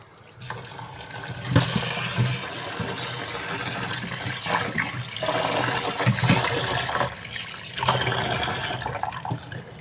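Dal lentils being rinsed by hand in water, a steady close splashing and swishing with brief louder sloshes as the grains are stirred and poured, no voices.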